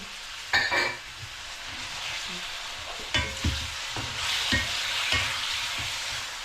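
Meat frying in a hot pan until golden brown, a steady close sizzle with occasional clattering stirs and scrapes of a utensil.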